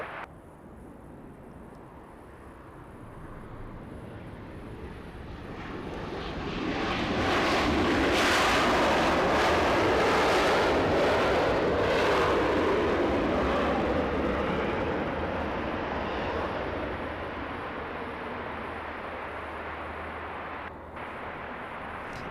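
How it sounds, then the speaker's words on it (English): A Delta Boeing 737-900 Next Generation arriving from Austin lands on the north side of Los Angeles airport, its engine roar swelling from a distant rumble to a loud broad rush at mid-clip, then slowly fading away. "Delta 737 up next to land here in the north side."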